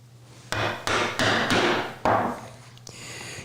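A series of sharp hammer or mallet blows on a chisel chopping a mortise in wood, held against a guide block, about six distinct strikes spaced irregularly, close and loud with woody ring.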